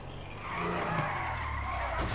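Car in Grand Theft Auto V skidding on blown-out tires, a continuous low tire scrub and engine rumble that swells after a moment and holds steady, close and moderately loud.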